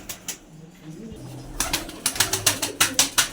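Green-eyed Punnu-line flying pigeons give low cooing at first, then a run of sharp, rhythmic clattering bursts like wingbeats, fairly close with no talk.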